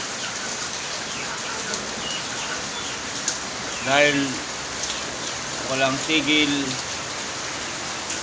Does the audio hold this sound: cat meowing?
no